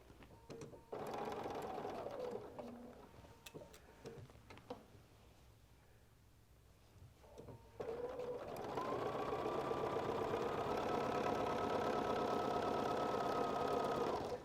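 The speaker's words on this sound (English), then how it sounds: "I have the 1/4 inch foot on the sewing machine" A sewing machine fitted with a 1/4 inch foot pieces quilt fabric with 50 weight thread at stitch length 2.0, whirring in bursts of rapid close stitching around a pause, then running steadily and loudly.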